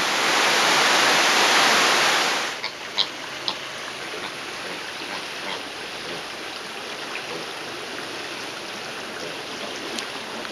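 A dense hiss of rain pours for a couple of seconds, then drops to a softer steady patter with occasional drips, in Flores, Indonesia, in January.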